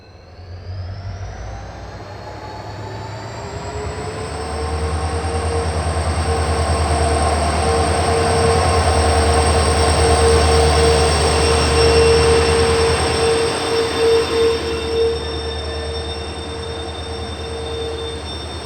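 The Mysuru Belagavi Express pulls out of Londa Junction, its loud, steady rumble building and holding as the coaches roll past, with a high wheel squeal running through it.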